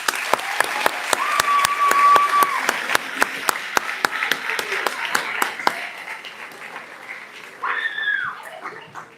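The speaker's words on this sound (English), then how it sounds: "So I want everyone to give a round of applause to our coaches." Scattered applause for coaches at an athletic awards event, clapping in the room with sharp individual claps standing out and fading toward the end, a faint voice near the close.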